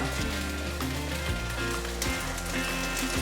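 Tofu steak fries slowly in a pan over medium-low heat, a soft, constant sizzle sitting beneath prominent background music.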